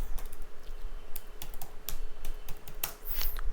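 Rapid typing on a computer keyboard while code is erased, dense irregular clicks and key taps at close range, with a quick flurry of presses near the end.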